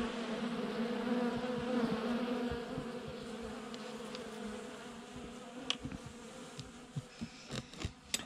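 During a February winter check of a hive, honeybees hover close by as guard bees, giving a steady buzzing drone with a few sharp clicks and knocks near the end.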